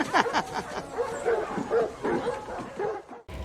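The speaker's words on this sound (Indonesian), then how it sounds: "seketika seluruh anjing yang berada di tempat tersebut menggonggong tanpa sebab" Several dogs bark and yip at once in a rapid, overlapping chorus that holds steady for a few seconds, then stops abruptly.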